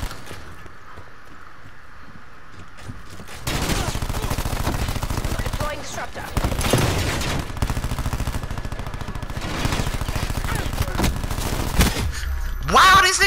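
Rapid gunfire from a Cordite submachine gun in a shooter video game, with dense bursts and loud sustained fire over most of the stretch, plus a little voice chatter.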